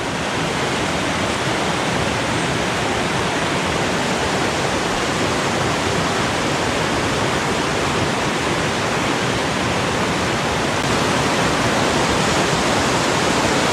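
Water rushing through a tiny creek where someone is fly fishing, a steady broadband wash of flowing current that stays loud and unbroken throughout with no voices.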